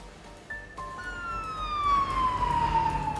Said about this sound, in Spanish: Los vehículos de emergencia llegaron poco después.